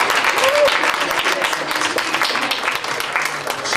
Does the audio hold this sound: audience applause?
yes